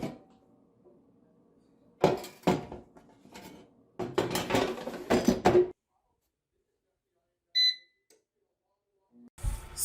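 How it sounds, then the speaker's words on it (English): Sweet potatoes are set into an air fryer basket with a run of clattering knocks and thuds, followed after a pause by a short electronic beep from the appliance and a final bump. "And then we place it in an air fryer."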